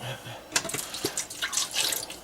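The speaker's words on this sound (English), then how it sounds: "pour all your liquids in first." Liquids poured into a bowl for a beef jerky marinade make a splashing, trickling wash with a few drips, close by and moderately loud.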